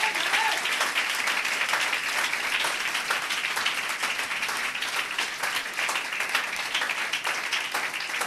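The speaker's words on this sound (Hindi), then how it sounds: "जोरदार तालियां बजाएं यीशु मसीह के लिए।" A church congregation applauds loudly during a Hindi sermon, a sustained wall of dense clapping that stays close and steady for about eight seconds with no voices over it.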